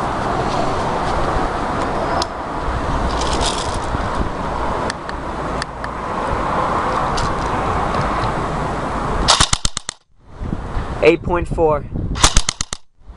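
A GSG 522 airsoft gun fires in a sustained, rapid full-auto burst for a rounds-per-second test, a dense, loud mechanical rattle lasting several seconds, followed by short bursts and a brief voice near the end.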